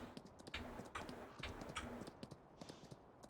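In a Farming Simulator 19 horse riding mod, hooves clip-clop in a quick, steady rhythm, close and distinct, with no talking.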